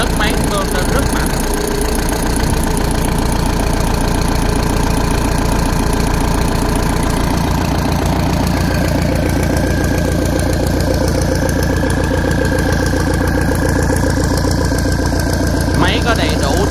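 A Mitsubishi 100 hp turbocharged marine diesel engine runs steadily near the microphone, a loud continuous knocking drone that holds through the whole stretch with no pauses.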